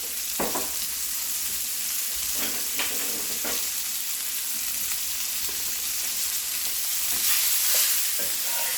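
Sliced onions sizzle in butter in a cast iron skillet for caramelizing, a steady hiss that runs throughout, broken by occasional scraping and stirring knocks.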